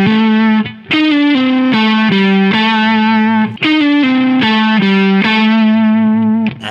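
Distorted electric blues rock guitar plays a repeated seesaw phrase of three alternating notes with vibrato on landing notes, loud and close, no talking.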